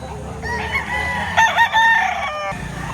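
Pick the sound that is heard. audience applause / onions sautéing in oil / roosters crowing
roosters crowing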